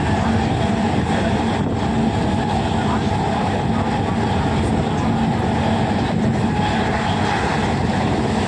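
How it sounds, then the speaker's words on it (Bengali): A train pulls away amid a dense, loud rumble of wheels and engine noise, steady throughout and heard from close by, with crowd voices mixed in. "ট্রেনটা ছেড়ে দিল"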